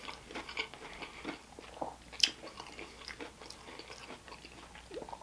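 Close, crisp bites and crunching chews on a fried corn tortilla come in irregular bursts, with one sharper crackle partway through and no talking.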